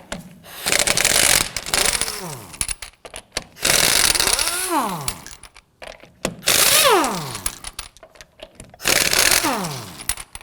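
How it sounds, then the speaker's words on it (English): Ratchet with a 19mm socket loosening lug nuts on a 2008-2011 Ford Focus wheel: four loud bursts of rapid clicking ratchet, each ending in a descending whine as the nut spins free, separated by short pauses. "Now we're going to use our 19mm socket to loosen and remove the lug nuts."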